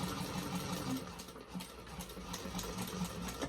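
A sewing machine back stitches through a bag seam at close range, a quiet rapid mechanical whir with faint rhythmic needle ticks and slight pauses as the direction changes.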